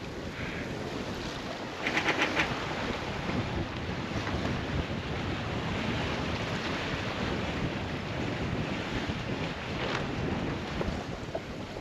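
A sailboat running under sail on a windy day in a narrow river channel, with loud wind buffeting the microphone over the constant wash and slap of water along the hull. No one speaks.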